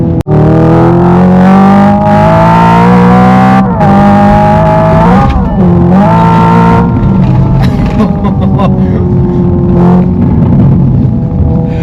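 A Hyundai Ioniq 5 N electric sports car's simulated engine sound revs hard and roars continuously, pitch climbing and dropping through gear changes, loud and close.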